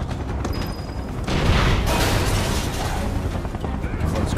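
Dense, continuous gunfire and blasts in Final Fantasy VII Remake combat, a steady roar of bursts that swells louder midway and stays thick throughout.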